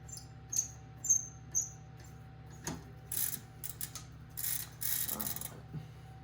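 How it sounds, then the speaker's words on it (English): Rear derailleur being removed from a Trek Stache mountain bike: a few faint metallic clicks and tool scrapes, then short rattling bursts of parts handled close up over a quiet hum. "so let's take off the rear derailleur here."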